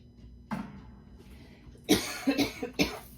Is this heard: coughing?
yes